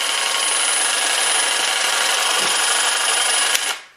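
A jigsaw runs continuously with its trigger locked on, giving a steady, loud buzzing whine that holds evenly for several seconds before cutting off near the end.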